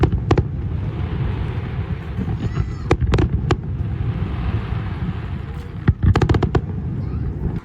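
Fireworks burst at night over a Gulf waterfront in a display lasting more than five minutes, with repeated sharp bangs in scattered clusters over a steady, loud rumble of crowd and ambient noise.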